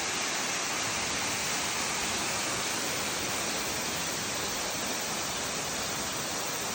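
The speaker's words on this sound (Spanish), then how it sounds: "Tercera cascada." Waterfall at the third cascade on a mountain route in Odaesan, South Korea, a steady dense broadband rush of falling water, constant and fairly close with no voices.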